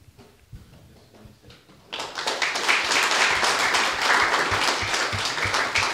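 Audience applause at a book launch, starting with a few scattered claps under quiet room noise, then swelling into full, steady clapping from a seated crowd.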